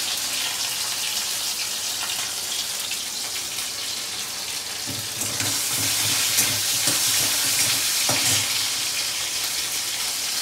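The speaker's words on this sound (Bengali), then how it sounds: "একটা শুকনো লঙ্কা দেবো ফোড়নে" Dried red chilli, black cumin and chopped tomato sizzling in hot oil for a potato curry tempering, a steady loud frying hiss that swells midway with bursts of spatter and scraping stirs, no voices.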